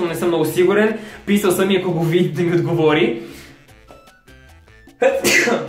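Someone talks, and near the end a single loud sneeze breaks in, close and abrupt, backstage at an X Factor 2017 television talent show.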